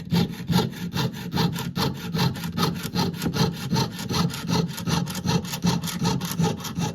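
A handsaw cuts through wood in fast, steady back-and-forth strokes, close and loud, a rhythmic rasping that continues without pause and without talk.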